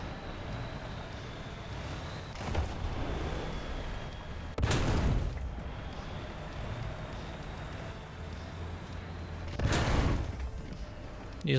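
Booming cannon blasts in War Thunder, a tank game, two or three heavy shots spaced several seconds apart over a constant engine rumble.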